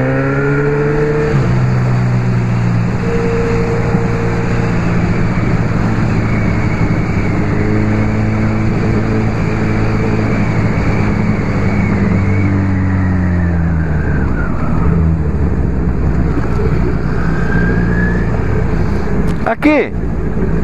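A heavily loaded Ninja 250cc motorcycle engine revs loudly and continuously, its pitch rising and falling through the gears with a final sharp burst near the end, while voices talk over it.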